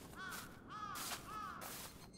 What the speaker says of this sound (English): I don't like the crows.